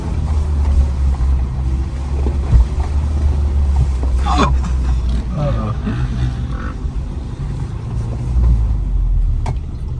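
Suzuki Samurai crawling slowly up a steep off-road slope in low gear, a steady low engine rumble with faint clanks and creaks throughout, while people talk over it.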